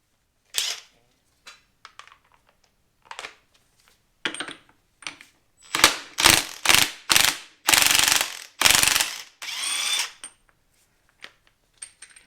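A ratchet clicks away at the reverse-thread clutch basket nut on a Harley Davidson Sportster, sparse clicks at first, then a run of loud, rapid ratcheting bursts, with a few stray clicks at the end.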